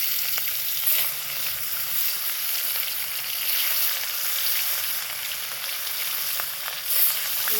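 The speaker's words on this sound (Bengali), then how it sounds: "এই যে নুন হলুদ মাখানো হয়ে গেছে, এবার আমি তেলেতে ছাড়বো।" Fish coated in salt and turmeric sizzles steadily in hot oil, a close, even crackle that holds for the whole stretch with small pops and no talking.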